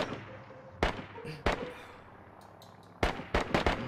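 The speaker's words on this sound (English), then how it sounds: "I'm hearing shots" Distant gunshots in the DayZ video game, several sharp cracks including a pair close together, heard over low game ambience with no talking.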